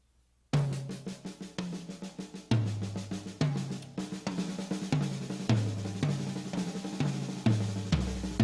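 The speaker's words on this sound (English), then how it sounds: "it'd be like a paradiddle diddle, and that would sound like this" A drum kit plays a paradiddle-diddle sticking pattern in a private drum lesson: a steady, close, clear flow of snare and tom strokes punctuated by regular kick and cymbal accents, with no talk over it.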